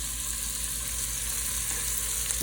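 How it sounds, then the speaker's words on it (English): Steady, loud sizzling of onions and celery frying in a hot pot, a continuous crackling hiss with no voices. "throwing in my onions, and my celery. I love that sizzle."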